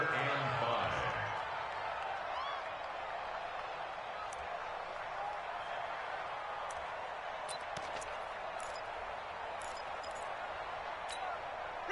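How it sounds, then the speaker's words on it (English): Stadium crowd in the Madden NFL video game, a steady roaring din of cheering sustained throughout, building ahead of a big third-down play, with faint clinks on top. "the crowd getting into it as we come up on a big 3rd down"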